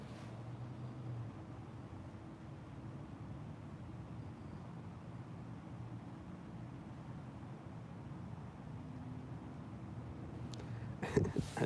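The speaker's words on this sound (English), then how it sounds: "Right when this car pulls up," A car engine rumbles low and steady as the car pulls up, a constant near drone that swells into a louder, rougher burst at the very end.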